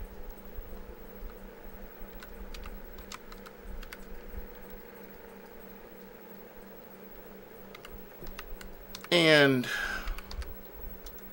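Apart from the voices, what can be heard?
typing on a computer keyboard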